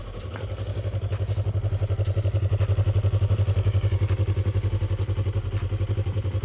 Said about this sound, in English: when you start revving and you start actually, hitting it and ripping it, it does sound pretty good